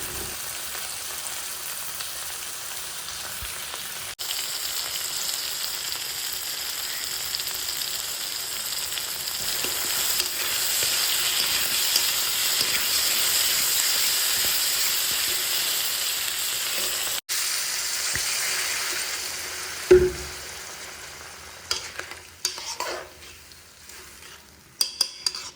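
Spiced curry with cumin powder and garam masala frying and being stirred in a pan, a steady close sizzle with scraping stirs, then a sharper burst of hissing and clatter near the end as water is added.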